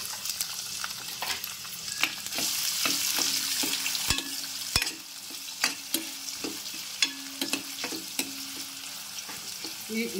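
Onions fry in a hot pan with cumin and bay leaves, giving a steady crackling sizzle broken by sharp clinks and scrapes of a spoon stirring against the metal, close up and without voices.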